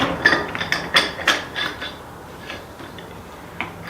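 Ratchet and hand tools tightening parts to push bearings on during a Land Rover Discovery 1 extreme off-roader build in a garage, with a series of close metallic clicks and knocks in irregular bursts.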